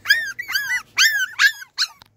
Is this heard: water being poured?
no